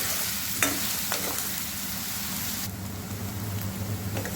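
Onions frying with salt in a pan for a saag tadka, a steady soft sizzle with a few scraping stirs of a spoon, alone without talk.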